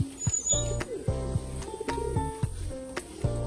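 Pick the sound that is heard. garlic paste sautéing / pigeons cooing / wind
pigeons cooing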